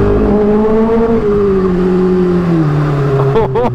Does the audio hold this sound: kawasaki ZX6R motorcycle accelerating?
yes